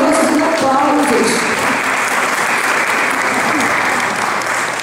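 Sustained audience applause at a Brazilian literary academy's heritage ceremony, dense clapping that holds steady then slowly thins, with a voice briefly heard at the start.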